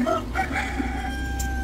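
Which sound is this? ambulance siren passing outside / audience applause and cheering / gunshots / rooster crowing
rooster crowing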